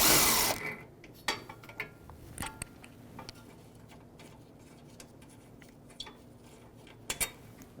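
A ratchet with a 10mm socket loosening brace bolts on a 2013-2018 Toyota RAV4 during radiator replacement, with a run of sharp clicks and ticks that are close but fairly quiet, then brief metallic knocks.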